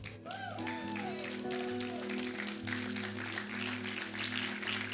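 Church congregation applauding during a Spanish-language sermon, sustained dense clapping under music and a preacher's voice.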